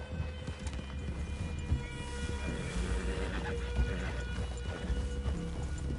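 Horses' hooves clip-clop in Red Dead Redemption 2, a steady rhythmic plodding under a low ambient rumble, moderately quiet and continuous throughout.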